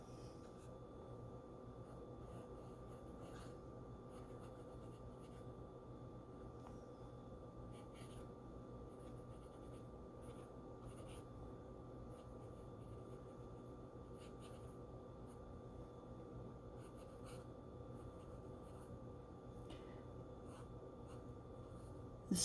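A Benu fountain pen fitted with a fine Schmidt nib writes on paper, giving a soft, steady, continuous scratch of strokes running evenly throughout, quiet and close, with no talking.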